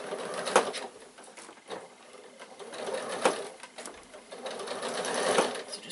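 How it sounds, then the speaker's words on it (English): Sewing machine stitching all the way around a piped bag with a glasses case, a steady mechanical whir rising and falling with short pauses, close and fairly loud, with no talking. "line it up at the top, and sew all the way around."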